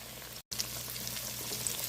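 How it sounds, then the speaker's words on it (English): Southern-style green tomatoes fry in a crowded pan with a continuous crackling sizzle, cut by a short break early on, then resuming close and steady with no voices. "we're going to fry them until golden brown on each side"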